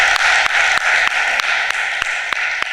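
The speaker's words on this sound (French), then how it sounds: "Je voudrais vous demander de l'applaudir." Applause from the audience at a Benin union congress, a steady broadband wash of clapping heard at moderate distance with faint regular taps cutting through, no voices over it.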